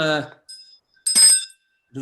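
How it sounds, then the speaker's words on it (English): A small hand bell rings out in short, bright chimes with clear ringing tones, separated by brief pauses, with a voice speaking just before and after. "I'm gonna ring this bell"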